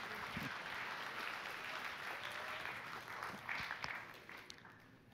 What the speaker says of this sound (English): just give a round of applause to Mark Freestadt